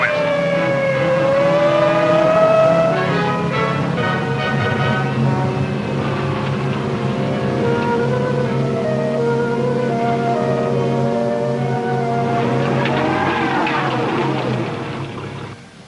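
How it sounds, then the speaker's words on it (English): A car approaches with a rising engine drone and a whining tone that builds over several seconds, then fades near the end. "There's a car coming, Doc."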